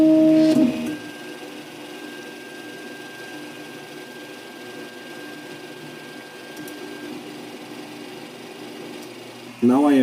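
An Anet A6 3D printer feeding PLA filament, a low steady mechanical whir with a faint sustained whine, close and moderate in level, framed by brief voice sounds at start and end.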